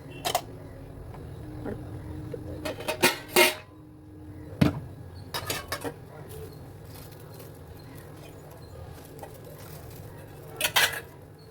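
A new kadai pan set down on a gas stove in a home kitchen while preparing fish curry, with several sharp metallic clanks and clatters in bursts, close and fairly loud over low background hum.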